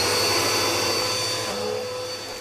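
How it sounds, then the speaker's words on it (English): A vacuum cleaner runs continuously with a steady whine and a constant motor drone, close and loud, easing slightly toward the end. "Why, it's a vacuum."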